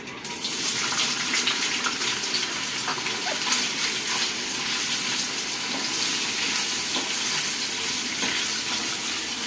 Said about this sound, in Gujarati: સૌ પહેલાં પનીર થોડું ફ્રાય કરીશું.